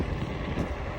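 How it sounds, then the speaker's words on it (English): Outdoor wind buffeting a microphone, making a dense, uneven low rumble that fills the whole brief moment. "it's kind of getting windy"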